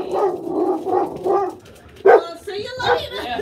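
Several house dogs bark in a few sharp, close bursts, with one loud yip standing out midway, while a person talks over and between the barks.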